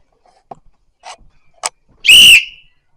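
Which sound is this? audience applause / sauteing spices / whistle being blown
whistle being blown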